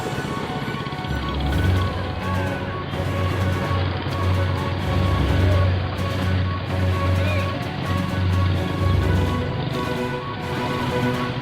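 Quarter midget race cars run their first race, small engines droning steadily and loudly together with a rising and falling low buzz as the pack circles, no voices over it.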